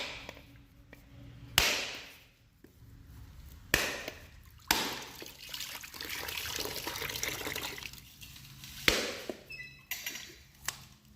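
A large coconut is cracked open with several sharp, loud chopping blows, and its water splashes and trickles out between the strikes, close by with no talking.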